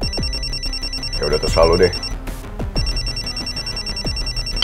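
A telephone rings insistently in a repeating electronic ring pattern, close and clear, while a person speaks briefly over it in the middle.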